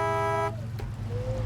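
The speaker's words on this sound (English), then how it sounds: "If we honk, then these should fall down." A truck horn honks in the SnowRunner off-road driving game, one loud sustained tonal blast lasting about half a second, followed by a low idling engine rumble.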